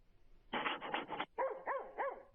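Evan Mandelbaum's dog barks in a rough, rapid burst, then lets out several higher, yelping barks with whiny tones, fairly close and loud.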